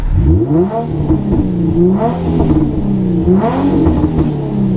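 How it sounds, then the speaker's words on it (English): An untuned Infiniti G35 engine with a Vibrant resonator and muffler delete is revved several times in quick bursts, each rise and fall distinct, with crackling pops from the exhaust between revs, close and loud. "Do a couple of revs for the boys."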